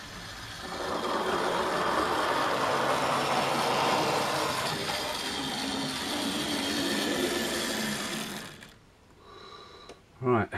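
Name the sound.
model railway locomotives running on the track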